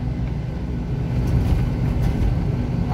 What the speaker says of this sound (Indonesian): sudah ramai motor